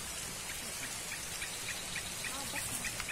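Rain falls as a steady, soft hiss of drops beside a riverbank fishing spot, continuous and even with faint scattered drips.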